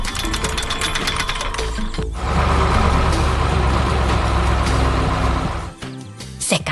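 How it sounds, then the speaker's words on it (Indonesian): A construction machine's drill arm grinds through soil and hard rock, a dense, steady mechanical rumble and rattle with rapid knocking, loud and close, shifting in intensity and briefly dropping off near the end. "Perhatikan bagaimana lengan bor itu bergerak dengan kuat, mengikis tanah dan batuan keras dengan sangat efisien."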